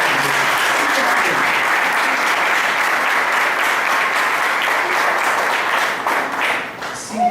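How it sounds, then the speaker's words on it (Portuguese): A church congregation claps together in sustained, loud applause that holds steady and then begins to thin out near the end. "vamos aplaudir Jesus pela vida do Senhor."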